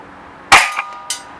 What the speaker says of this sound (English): And last shot.